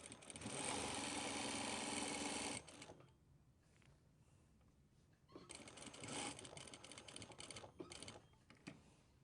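A sewing machine stitches down a pocket flap with a back tack, running in a loud steady burst, pausing, then resuming in shorter uneven bursts.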